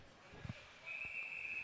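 A referee's whistle blows at a high school ice hockey game between Avonworth and West Allegheny, one steady shrill tone that holds for nearly a second over faint rink noise.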